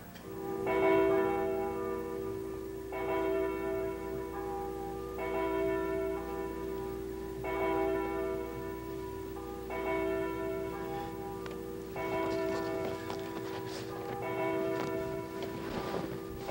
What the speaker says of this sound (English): The church bells have been ringing all morning.